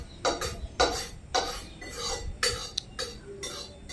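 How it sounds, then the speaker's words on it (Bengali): Oil spread around a hot kadai with a utensil, a series of close metallic scrapes and clinks repeating every half second or so. "কড়াইটার চারপাশে তেল দিয়ে নাড়াচাড়া করে দিচ্ছি, কেননা তাড়াতাড়ি কড়াই গরম হবে।"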